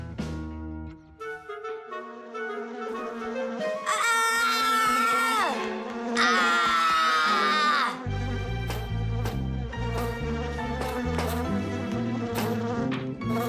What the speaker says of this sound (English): Bees don't bite, by the way. They sting ya.